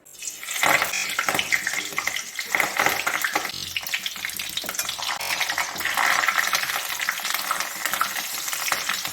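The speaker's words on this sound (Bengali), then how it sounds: "পটল পাতা অর্থাৎ পলতা পাতা আমি ভেজে নিচ্ছি" Steady sizzling of pointed gourd leaves frying in hot oil, with bursts of crackling and occasional scraping, loud and close throughout with no talking.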